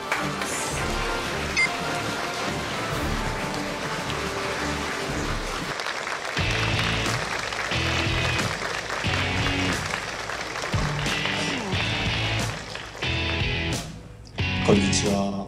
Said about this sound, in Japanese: 皆様大きな拍手をお迎えください。